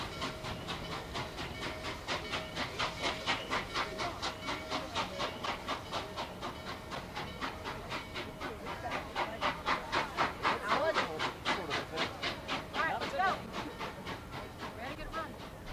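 Norfolk & Western 611 steam locomotive chuffs past in a wooded setting, rapid rhythmic exhaust beats at moderate distance that swell louder midway, with hissing steam and faint whistle tones.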